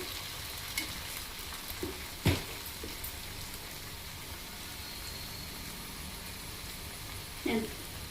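Okra (ladies finger) frying uncovered in an open pan, Andhra style, with a steady soft sizzle throughout, occasional stirring scrapes and a couple of brief clatters.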